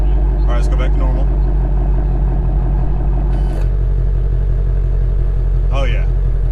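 A Ford Mustang Shelby GT350 engine idles steadily in normal mode as a deep, continuous rumble inside the car while people talk over it.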